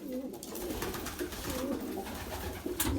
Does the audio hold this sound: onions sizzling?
no